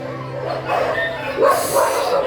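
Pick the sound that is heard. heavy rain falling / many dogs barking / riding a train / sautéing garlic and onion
many dogs barking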